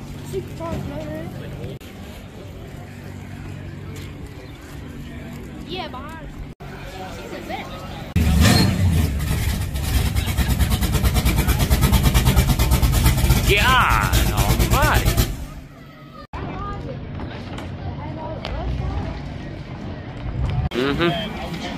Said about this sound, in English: This one's got the four-cylinder turbo in it.